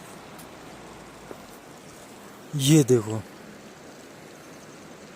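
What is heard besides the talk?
waterfall stream flowing in Himachal mountains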